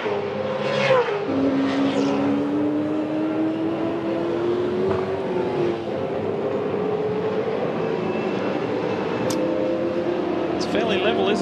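V8 Supercars racing at the 2006 Desert 400 in Bahrain, heard from on board Craig Lowndes' car: a loud, steady engine drone with rising and falling pitch through gear changes, continuous throughout.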